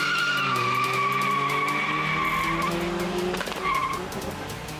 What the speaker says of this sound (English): it's quite crazy to hear so much of wheel spin from the outside